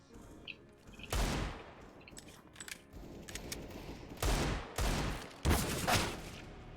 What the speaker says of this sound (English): Then I just work on my deagle shots, pull up my deagle.